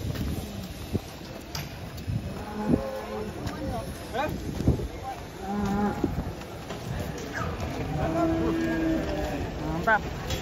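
Cattle being unloaded from a truck moo repeatedly at close range, deep drawn-out calls over wind noise and outdoor ambience, with people talking nearby.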